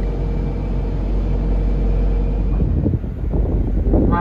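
A General Motors diesel engine idles aboard a boat crossing open water, a loud, steady low rumble mixed with wind buffeting the microphone, rising into choppier gusts near the end.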